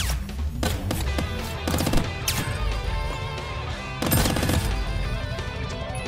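Gunfire in the video game Squirrel With a Gun, a dense, loud stream of shots and impacts that keeps going under busy game sounds, with several sharp cracks standing out.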